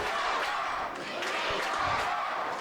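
A large indoor professional wrestling crowd roars and cheers continuously, a dense wall of voices with shouts rising throughout.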